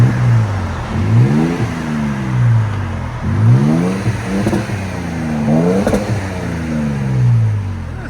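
A Toyota Tacoma TRD with a 3.5L V6 and XLerator muffler blips its throttle repeatedly at close range, several short rising-and-falling revs over a rumbling idle.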